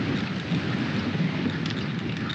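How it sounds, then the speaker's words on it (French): Steady, loud wind rushes and buffets against the microphone while cycling along a bike path, a continuous broadband roar with no other sounds standing out. "Il souffle toujours ce vent."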